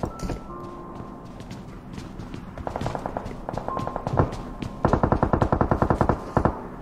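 Bursts of rapid machine gun fire in a shooter video game, starting as scattered shots and building into loud, fast rattling volleys near the end.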